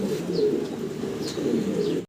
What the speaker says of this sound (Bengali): আরও এক পিস চমৎকার কবুতর দেখাচ্ছি আপনাদেরকে